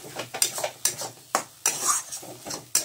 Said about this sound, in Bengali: এবার খুব ভালো করে এটাকে আমি নাড়াচাড়া